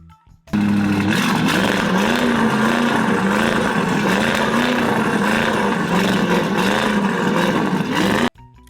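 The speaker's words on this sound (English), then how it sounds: "Car revving." A car engine revs hard and steadily, its roar rising and falling in loud repeated surges for several seconds before cutting off abruptly.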